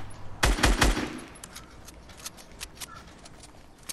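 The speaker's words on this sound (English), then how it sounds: "Someone's shooting him from the right" A burst of rapid gunfire in a video game, loud and close near the start, followed by fainter scattered shots in the distance.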